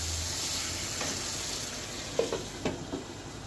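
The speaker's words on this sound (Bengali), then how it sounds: "এবার ভাজা মাংস আর আলুগুলাকে একসাথে দিয়ে কষিয়ে নেব" Fried chicken and potatoes with yogurt sizzle steadily in a pan while being stirred for chicken biryani, a continuous frying hiss broken by a few close utensil scrapes and clinks toward the end.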